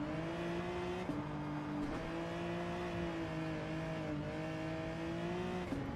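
A small diesel engine with two or three cylinders, one that drops to two cylinders while coasting, runs steadily and close by with a low droning hum and a faint shift in pitch partway through.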